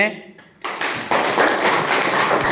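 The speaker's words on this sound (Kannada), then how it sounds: "ಚಪ್ಪಾಳೆ." A classroom of students breaks into clapping, a dense loud burst of many hands that starts suddenly after a teacher's short spoken lines and continues steadily to the end.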